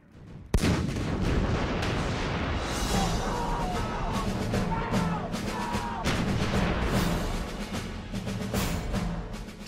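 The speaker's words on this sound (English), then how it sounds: "British and American troops began a massive artillery barrage onto the Iraqi positions in front of them" A massive artillery barrage from British and American troops pounding Iraqi positions in the Gulf War rolls on as a dense, continuous roar of overlapping booms and blasts, loud and sustained with no pauses.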